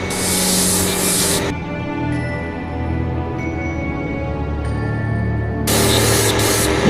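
Spray paint hisses onto an RC 1946 Dodge Power Wagon wrecker truck in a thin coat, two loud close bursts separated by a quieter stretch of background noise.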